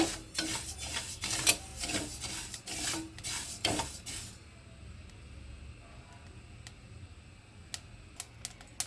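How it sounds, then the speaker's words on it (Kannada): Fenugreek seeds being dry roasted and stirred in a pan give a dry, raspy scraping for the first few seconds, then fade to quiet with a few faint clicks near the end. "ಇದು ಮೆಂತ್ಯನ ಕೆಂಪಗಾಗೋ ಥರ ಹುರ್ಕೊಬೇಕು"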